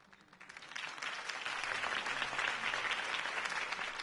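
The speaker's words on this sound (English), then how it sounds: "If only Mr. Wayne, my campaign's largest backer, could have heard that applause" A crowd claps and cheers after a campaign speech for Harvey Dent in the Batman Telltale video game, the applause swelling quickly into a dense, steady roar that is heard from a moderate distance.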